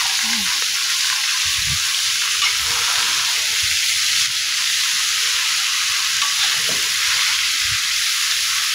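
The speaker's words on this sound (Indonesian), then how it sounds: "Kita aduk-aduk sampai merata ya, biar bumbunya itu tercampur dengan sempurna." A seasoned dish frying in a pan with sugar and flavour enhancer mixed in, a loud steady hiss of sizzling oil with soft low thumps and scrapes of stirring throughout, up close.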